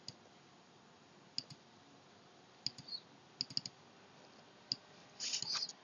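Computer mouse clicks during AutoCAD drafting work: a few sharp single and double clicks spread over several seconds, close and fairly quiet, followed by a brief burst of rapid clicking at the end.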